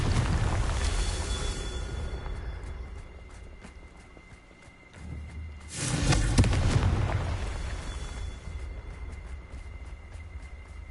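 A Confringo spell explosion in Hogwarts Legacy erupts as a loud, broad burst about two-thirds of the way through, following quieter rumbling and ticking game ambience and then fading into a lingering rumble.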